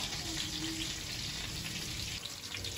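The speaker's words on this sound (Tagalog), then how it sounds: "Magigisa na tayo. Lagyan na natin ng oil. Konting oil lang. Tapos lagay na natin yung ating bawang." Garlic sautéing in a little hot oil as the base for bitter gourd with egg gives a dense, even hiss of frying that holds steady and close for a few seconds, with no talking.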